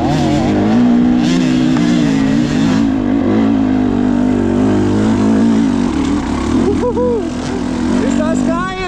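A freshly rebuilt motorcycle pulls hard in second and third gear, its engine roaring loud and close with rising and falling revs as gears change, while a rider talks excitedly over it.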